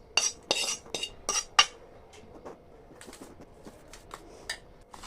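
A spoon clinks and scrapes as a roasted dry fruit laddu mixture is transferred into a large plate. A burst of sharp metallic knocks comes first, then softer, scattered scraping taps, all close by.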